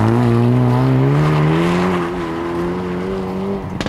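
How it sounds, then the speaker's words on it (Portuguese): Exhaust note from a Hyundai i30 N hot hatch with 275 hp while driving, a loud, steady engine drone that climbs gradually in pitch, close and alone with no voices. "adoro tanto este estrilho que ele faz de escape"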